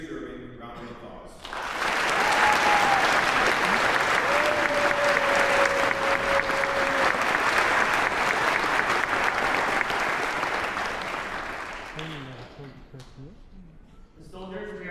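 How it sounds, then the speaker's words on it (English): A crowd at a Basic Combat Training graduation breaks into loud, sustained applause for the graduating soldiers, swelling after a spoken announcement and fading out toward the end, where talking resumes. "Please give the graduating class a very deserving round of applause."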